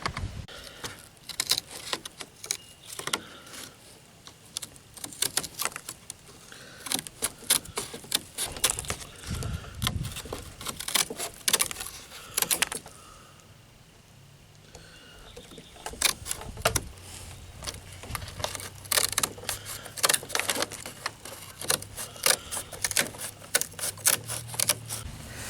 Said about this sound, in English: I think we'll use kind of like shears and start cutting it some